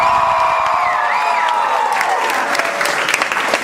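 At a short-form improv comedy show, the crowd breaks into sustained applause mixed with cheers and whoops, loud and dense from start to finish with scattered sharp claps near the end.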